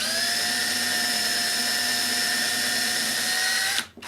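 Power drill boring pilot holes in wood, a steady high whine held for nearly four seconds before spinning down abruptly, close and loud with no talk.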